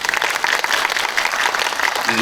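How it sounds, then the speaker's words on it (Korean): Dense, steady applause from a film screening audience during a post-screening talk, continuous and loud throughout with no pauses. "박수로 한번 좀 부탁드립니다"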